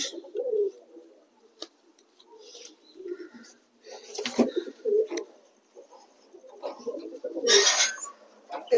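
Satin and fantail pigeons coo in soft, repeated throaty bursts at close range while being caught, with some wing flutter and rustling among them.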